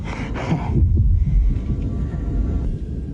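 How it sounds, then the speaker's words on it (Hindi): A low, throbbing heartbeat effect pulses under a rumbling drone in a horror film, loud and close, with the beats smeared into a continuous heavy thudding. "मैं तुम्हारी धड़कनें सुन सकता हूं।"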